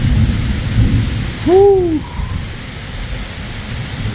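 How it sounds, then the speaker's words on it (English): A heavy rain downpour with thunder pours over a farm pond dam as a dense, low roar. A person lets out a short whoop midway through. "man, we're getting a downpour"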